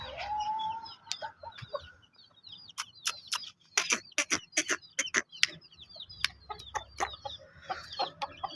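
Several chickens cluck and squawk nearby in busy overlapping bursts, with a rooster-like call at the start.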